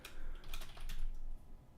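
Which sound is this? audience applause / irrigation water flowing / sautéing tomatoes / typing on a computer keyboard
typing on a computer keyboard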